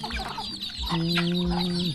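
Chickens cluck in a rural Thai village, with soft repeated low clucks followed by a drawn-out, tonal call from a nearby bird, all heard close and clear without talk.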